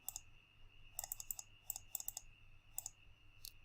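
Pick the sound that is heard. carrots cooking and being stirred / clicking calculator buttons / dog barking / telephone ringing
clicking calculator buttons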